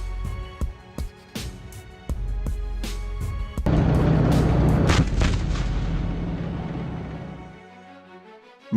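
Heavy blasts from a Javelin missile strike in fighting in Bakhmut, Ukraine: a series of loud, sharp booms followed by a sustained roaring rumble that slowly fades, with no voices.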